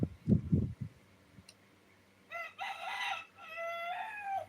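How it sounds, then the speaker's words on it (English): A rooster crows in the early hours before dawn, one drawn-out harmonic call near the mic after a few soft, low clucks and a faint click, with no talk. "Wake them up, Rooster."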